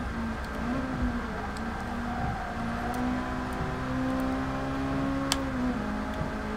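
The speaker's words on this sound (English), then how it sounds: "that VTEC keeps kicking in." Honda engine with VTEC kicking in during a Gran Turismo Sport race, a continuous droning whine that shifts pitch as revs climb and drop, steady and moderately loud with no talk.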